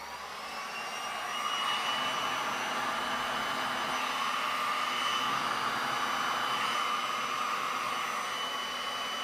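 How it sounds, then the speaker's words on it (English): A heat gun blows steadily into a cup of red pigmented resin, a constant whooshing fan roar that swells in the first seconds and then holds level and close, with no talk. "get your heat gun, stick it in the cup for just a second, and it will get it flowing again."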